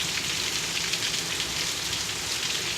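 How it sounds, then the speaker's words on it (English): Steady rain pours down on a dark Memorial Day afternoon during a tornado warning, a dense, even hiss of drops on surfaces that holds constant throughout, close and moderately loud with no voices. "it doesn't look like this rain is going to let up"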